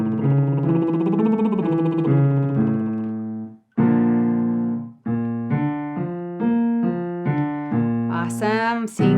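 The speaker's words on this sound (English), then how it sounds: "Seeing some good lip buzzing." A series of buzzy, pitched lip trills climbs and descends through scale steps, with short breaks between phrases and a higher sweep at the end.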